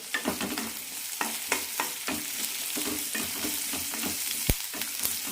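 Green chillies, ginger and carrot are sautéed in a hot pan for carrot chutney. A steady sizzle of frying runs throughout, broken by frequent scraping stirs and one sharp clink of the utensil against the pan.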